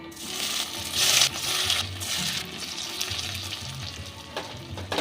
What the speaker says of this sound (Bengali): এগুলো অল্প একটু আমি ভেজে নেব